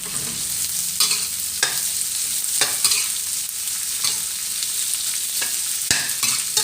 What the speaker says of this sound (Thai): ผัดพริกกระเทียมให้หอมนะคะแล้วก็ใส่ หมูกรอบลงไปผัดค่ะ